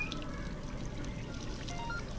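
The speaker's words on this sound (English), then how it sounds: "Put some water in." Water pours steadily and faintly into a container in the virtual reality game Job Simulator, a soft continuous trickle with no voices.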